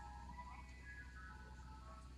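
A local ice cream truck's jingle plays as it rolls past, a faint tinkling melody over a steady low engine rumble, with no talking.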